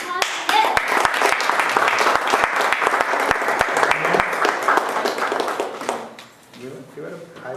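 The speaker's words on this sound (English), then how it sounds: "let's give a big round of applause for him" An audience gives a big round of applause for a basketball-loving boy, with dense clapping and a few sharp individual claps running steadily for about six seconds before it thins and fades, while voices carry underneath.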